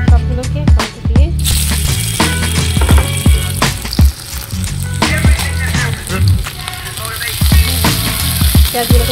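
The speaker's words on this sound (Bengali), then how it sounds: "পেঁয়াজগুলোকে ভেজে নেব লালচে করে।" Chopped onions, garlic and green and dried chillies fry loudly in a pan, a continuous close sizzle broken by clinks and scrapes of stirring.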